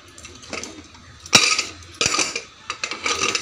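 A pressure cooker lid being handled and opened after cooling, with lapsi inside: sharp metallic clanks and clinks, one loud knock near the middle, then a scrape and a few lighter rattles, close by.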